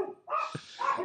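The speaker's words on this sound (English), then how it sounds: "It's only the dogs are going." Several dogs barking close by in a couple of sharp bursts, loud and alone with no talk over them.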